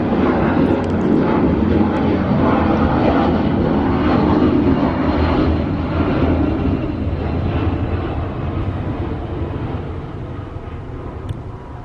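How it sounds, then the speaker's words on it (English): Airplane flying overhead, producing a steady, loud broadband roar that gradually fades toward the end, with no talking heard. "it's the airplane flying over"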